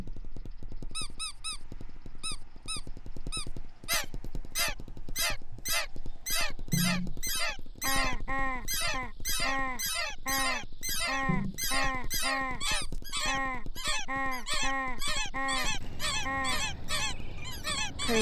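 Flock of geese flying overhead, honking and squeaking in a dense, overlapping chorus that stays loud and near throughout, with no talk.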